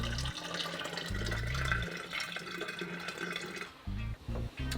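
Tea poured from a vessel into a hookah flask that was preheated with boiling water, giving a steady liquid stream broken by short pauses, close and fairly quiet.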